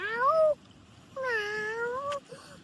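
A cat meows twice, first a short rising-falling call, then after a pause a longer drawn-out meow with a brief click near its end, close and moderately loud with no talking.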